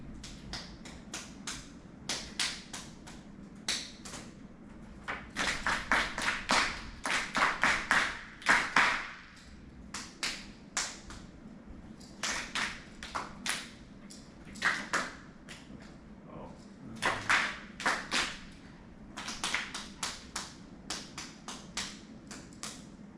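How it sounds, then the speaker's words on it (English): Rhythmic clapped phrases in a music class, a teacher's short patterns answered by a group echoing them back, sharp hand claps in bursts with brief pauses between phrases. "want you to echo clap each phrase that I'm going to be clapping"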